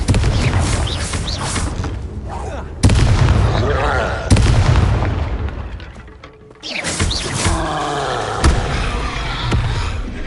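Repeated blasting-spell explosions from a Harry Potter wizarding video game burst out as loud, sharp booms, several in quick succession, each trailing off into rumbling debris amid game sound effects.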